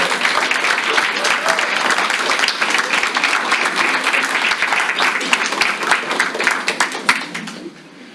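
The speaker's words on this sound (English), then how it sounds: "how about a huge round of applause for all of our presenters?" Loud, sustained applause from a sizable audience at a college honors symposium for its student presenters, a thick continuous wash of clapping that drops away abruptly near the end.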